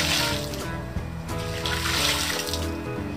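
Dirty wash water pouring steadily out of a homemade washing machine, a continuous close splashing gush.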